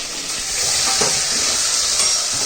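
Sliced onions sauté in a little hot oil for a Chettinad-style fish curry, a steady bright sizzle and hiss with a faint stir partway through, close and continuous, no talking.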